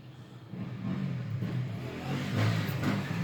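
An engine hums and then revs up nearby, its rumble rising and swelling toward the end, with no talking.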